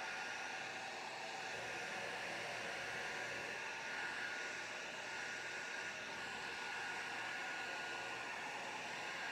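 A heat tool blows steady hot air over resin Christmas stars, a continuous loud even hiss with no breaks and no talking.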